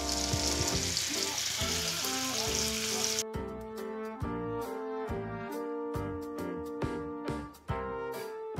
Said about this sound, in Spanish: ya se están cocinando mis rollitos de pechuga. Se están sellando perfectamente